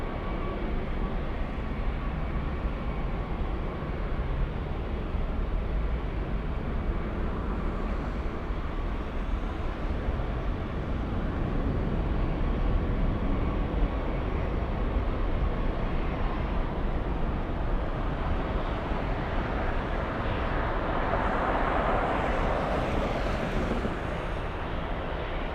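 A large airliner taxis at LAX, producing a steady, loud jet-engine roar and rumble that holds for the whole stretch and swells slightly near the end.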